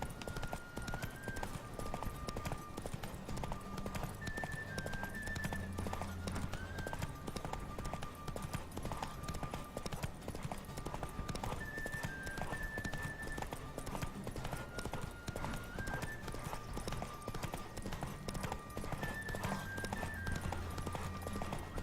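Rhythmic hoofbeats of a horse galloping flat out in a race in The Witcher, a steady clip-clop running the whole way under looping game music, with a brief whinny near the start.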